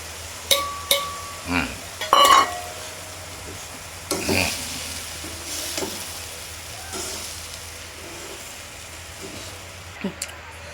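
Dal and minced chicken sizzle in a pan while a utensil clinks and scrapes in several sharp stirs, with a voice talking over the steady frying.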